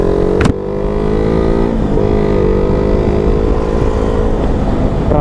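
A Suzuki WagonR drives through Pune traffic, its engine a loud, steady hum that runs throughout, with a short sharp click near the start and no talking.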